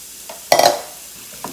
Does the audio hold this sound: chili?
yes